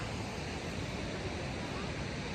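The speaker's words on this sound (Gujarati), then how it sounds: "આખો ધોધ જુઓ અવાજ કેવો આવે" Constant broadband roar of rushing water from the Mogra Ghat waterfall in Maharashtra fills the scene evenly without pauses.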